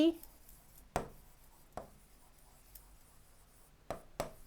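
Writing on a classroom board gives a few short, sharp taps and scratches spaced irregularly across a quiet room, faint and sparse with no talk.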